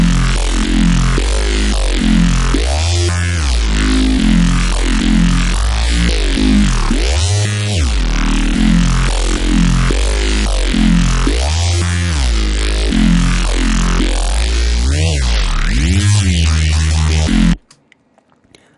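A neuro bass synthesizer patch plays on its own as a loud, gritty, continuously modulated bass with rhythmic wobbling pulses, running steadily for about seventeen seconds before cutting off abruptly.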